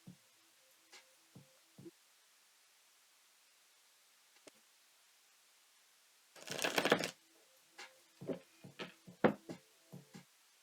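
Tarot cards being shuffled by hand: a loud burst of riffling at mid-clip, then a run of soft taps and flicks as cards are handled, in a quiet room with no talk.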